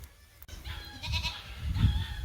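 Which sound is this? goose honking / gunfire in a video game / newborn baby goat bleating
newborn baby goat bleating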